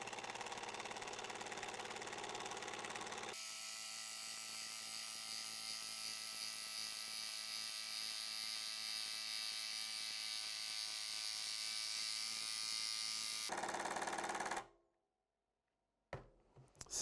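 A Makita DTD173 18V LXT impact driver sinks large-diameter screws into a wooden rafter, hammering loudly and steadily for about ten seconds. A short burst follows, then silence and a few brief taps.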